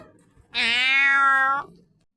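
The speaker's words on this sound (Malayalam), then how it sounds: "അടുത്ത നിമിഷം ദേ ഒരു പൂച്ച വരുന്നു" A single drawn-out cat meow from an animated cartoon story, loud and close, rising then holding steady for about a second before stopping, with near silence around it.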